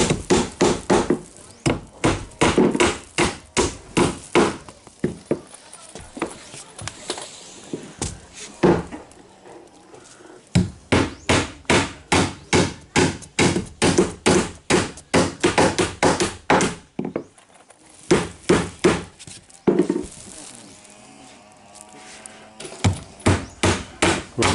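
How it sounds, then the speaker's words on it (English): Nails driven into a roof during a roof build, hammered in rapid, steady bursts of sharp, close blows with brief pauses between runs, continuing throughout. "Nerio, drive those nails all the way."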